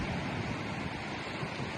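Strong wind and surf on a cold day at Silver Lake, Michigan: a steady, loud roar of gusting wind and breaking waves, with heavy microphone buffeting and no voices.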